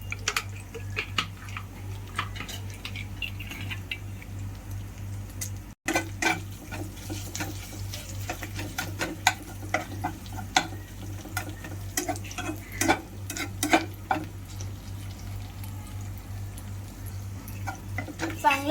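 Mustard seeds, cumin, asafoetida and turmeric are tempered in hot oil, with a soft, continuous sizzle and scattered crackles and a spoon clink, all beneath a faint low hum and occasional speech.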